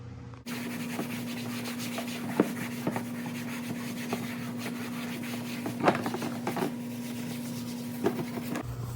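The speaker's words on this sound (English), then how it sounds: "Just want to scratch it up good so that the dye will adhere to the surface." An interior panel of a Foxbody Mustang is scuffed by hand before dyeing: steady close rubbing and sanding strokes over a constant low electrical hum, with occasional louder scrapes and no voices.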